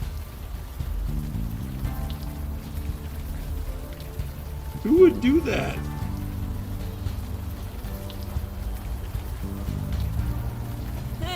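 Steady rain patters down through a night scene in the adventure game Unavowed, with a brief voice and a small splashy burst partway through over the constant hiss of falling drops.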